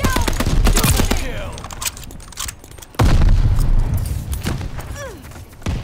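Heavy video-game gunfire in a World War II naval battle aboard the USS Texas in 1945: loud, dense bursts of shots and booms that pause briefly, then resume at full intensity.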